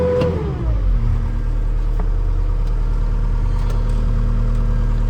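A 2016 Case skid steer engine revs up quickly and then holds a loud, steady high-idle drone close by, with no talking.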